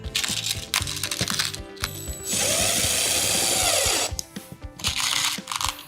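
A power drill drives small screws into a gun safe organizer, with short bursts of motor whine separated by clicks and handling, then one longer sustained drilling run up close.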